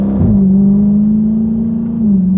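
A loud, deep exhaust drone from a 2018 Dodge Charger Scat Pack 392 with a mid-muffler delete holds a steady throaty tone close by, dipping slightly near the end as the revs change.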